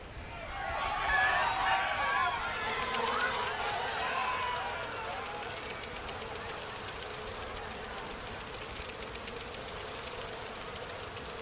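Bees buzz in the video game Dragon Age Inquisition, a steady insect drone with faint game ambience underneath, holding at a moderate level throughout while voices talk over it.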